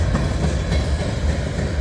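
Freight train of grain boxcars and cement cars rolling through Abbeville after a rain storm, a steady close rumble with faint clickety-clack of wheels, no voices.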